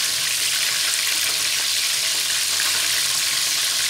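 Chicken pieces frying Jollibee-style in hot oil, a steady dense sizzle with fine crackling that holds at an even, close level throughout.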